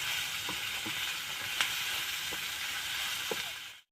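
Chutney ingredients fry in a pan with a steady, close sizzle and occasional clicks from stirring, continuous and unbroken by talk until it cuts off abruptly near the end.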